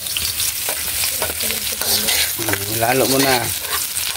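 Onions sautéing in a hot pan, a bright continuous sizzle with scraping stirs, close and loud, while someone speaks briefly over it.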